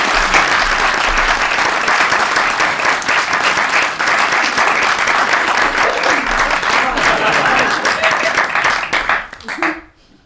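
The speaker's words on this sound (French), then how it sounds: "On l'applaudit." Loud, sustained audience applause for a Nobel laureate at a comedy show in Nantes, a thick wall of clapping that holds steady for most of its length, then thins and cuts off near the end.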